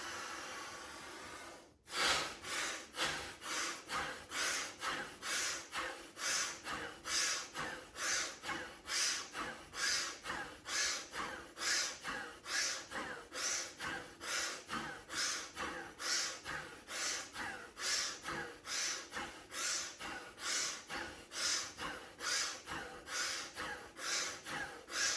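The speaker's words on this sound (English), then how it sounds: "As you inhale, as you raise your arms, consciously sucking in as much air as possible." Bhastrika bellows breathing: a long run of rapid, forceful breaths, roughly one strong puff per second, each sharp and close, keeping a steady pumping rhythm after a brief pause near the start.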